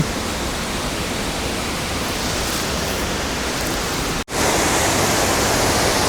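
Wei Sawdong Falls in Meghalaya roars as a loud, steady wash of falling water, close and continuous, with a brief dropout near the end before the rush resumes.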